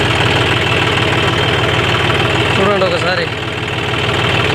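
A 5042D tractor engine runs steadily while pulling a cultivator to form field bunds. It gives a continuous chugging drone throughout, with someone talking over it.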